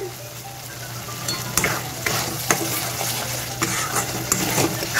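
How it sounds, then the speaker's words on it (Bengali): Spice masala sautéing in oil for a bottle gourd kofta curry, with chilli powder and sugar in the pan: a steady close sizzle broken by sharp scraping strokes of a spoon every second or so, with no talk. "ভালো করে মশলাটাকে কষিয়ে নেব"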